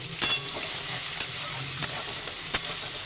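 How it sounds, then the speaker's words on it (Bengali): Bay leaves and dried chillies sizzle steadily in hot oil for tempering, with a few clinks of stirring over the continuous frying hiss and no talk. "আমি গরম তেলে তেজপাতা শুকনো লঙ্কা ফোড়ন দেবো"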